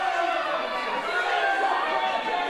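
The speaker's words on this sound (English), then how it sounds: "And listen to this crowd right now" Arena crowd at a live independent pro wrestling show roaring with a steady, dense wash of cheering and chatter, loud and continuous throughout with no clear breaks.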